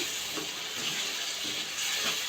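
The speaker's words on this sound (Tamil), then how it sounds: "கொஞ்சமாக தண்ணி ஊற்றிக்கலாம்" A little water poured into a pan of butter bean gravy, heard as a soft, steady trickle and splash close by that lasts a couple of seconds.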